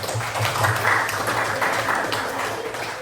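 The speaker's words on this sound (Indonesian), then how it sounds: "tepuk tangan untuk Mas Yuda" Schoolchildren clapping together in a classroom, a steady wash of applause lasting a few seconds with no break.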